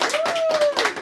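Several quick, close hand claps in a brief burst, mixed with a voice speaking at the same time.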